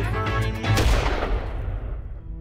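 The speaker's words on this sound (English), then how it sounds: "We wake up with these piercing close gunshots." Close, piercing gunshots in a mountain camp in Kyrgyzstan, loud sharp cracks clustered in the first second or so, then a long rumbling echo fading away, no talking.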